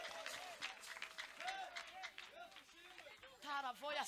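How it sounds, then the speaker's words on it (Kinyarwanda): Applause and clapping from a church prayer gathering crowd, a steady broad wash of hands lasting throughout, mixed with voices, cheering and ululation-like calls rising near the end. "Abanyumvise tuyikomera amashyi, tuyivugiriza impundu."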